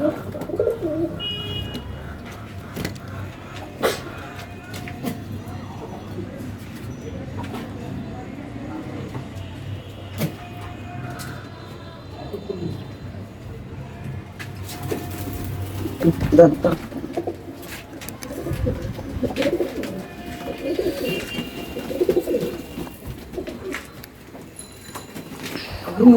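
Soft pigeon cooing repeats in the background over steady low rumble and scattered knocks, with occasional human voices nearby.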